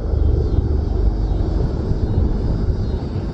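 Military helicopters fly over on an approach toward an Air Force base near an Alabama logging site, producing a steady, fairly loud low rumble that continues throughout.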